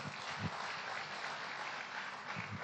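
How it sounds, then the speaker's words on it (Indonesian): Steady applause from an audience at a political gathering welcoming a presidential pairing at party headquarters, a dense even wash of clapping throughout with no voices over it. "Tepuk tangan."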